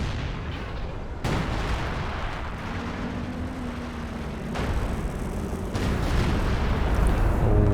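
B4 howitzer artillery fire during a Company of Heroes 2 2v2 match, a dense roar of booming blasts and battlefield rumble that swells louder in steps and stays loud throughout.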